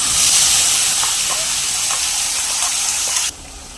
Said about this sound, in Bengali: এই মশলা দেওয়া জলটা একটু দিয়ে দেবো